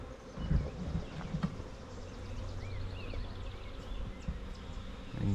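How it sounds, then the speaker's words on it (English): Swarm of honeybees clustered up in a tree after a hive swarmed, a steady outdoor buzzing hum with a few louder close passes of individual bees. "a good bit of bees up there, so we probably do not have the queen"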